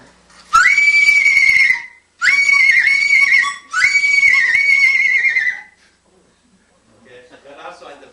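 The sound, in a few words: horse neigh imitated on a flute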